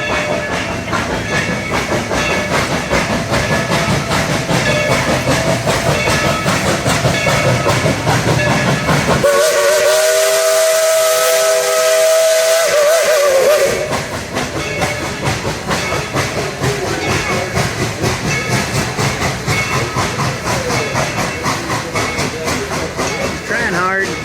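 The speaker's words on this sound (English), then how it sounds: "We all had a chance to run the steam engine, number 70" Steam locomotive number 70 chuffs loudly and steadily in the rain, then a long shrill whistle blows for several seconds before the rhythmic chugging carries on.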